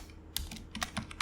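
Keys clatter in short bursts on a computer keyboard, several quick clusters of taps over a faint steady room hum, close and fairly quiet, with no voices.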